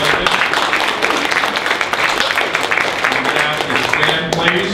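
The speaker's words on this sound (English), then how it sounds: "Like a round of applause for our representative" At a seminar on the New Hampshire Constitution, the audience gives a dense, sustained round of applause for their representative, with voices mixed into the clapping.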